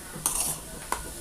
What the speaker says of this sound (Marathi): आपण व्यवस्थित परतून घेऊया. कांदा मसाला वगैरे पूर्ण याच्यामध्ये मिक्स झाला पाहिजे.